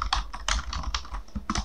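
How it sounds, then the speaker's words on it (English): Fast typing on a computer keyboard running Windows 10, a close, busy patter of irregular key clicks with no talking. "now you can start typing"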